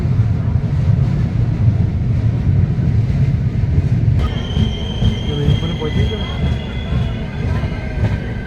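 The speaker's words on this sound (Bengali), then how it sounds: "ট্রেন এখন হলদি নদীর উপর দিয়ে যাচ্ছে" The Tamralipta Express crosses the bridge over the Haldi river with a loud, steady rumble of rolling wheels. About halfway through, high squealing wheel tones rise and linger above the roar.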